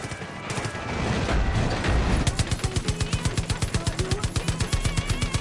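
Machine-gun fire in Far Cry 5, a loud close stream of rapid evenly spaced shots following a rumbling burst of mixed explosion and action noise.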